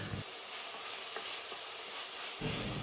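Tomatoes with ginger garlic paste sauté in a pan for Pattani kurma, giving a steady close sizzle and hiss with light stirring scrapes throughout.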